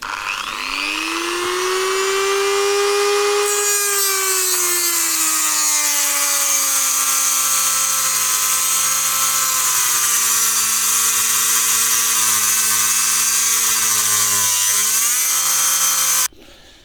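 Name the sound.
oscillating multitool cutting into a flail mower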